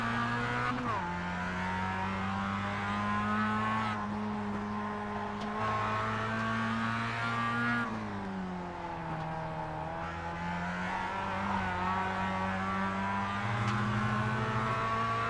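Simulated race cars in iRacing lap Okayama Circuit, with engines whining and shifting pitch as they accelerate, downshift and run on continuously at steady loudness.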